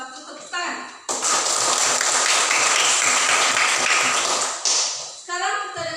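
A burst of group applause in a classroom after a student group's presentation, many hands clapping together for several seconds, with voices heard before and after.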